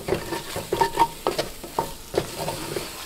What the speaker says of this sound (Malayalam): ഇതെല്ലാം കൂടിയിട്ട് നന്നായിട്ട് ഒന്നുകൂടി ഒന്ന് മിക്സ് ചെയ്യാം